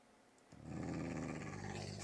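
A dog in the video game Minecraft growls after a half second of near silence, a sustained, low, rumbling snarl that holds steadily at moderate volume to the end.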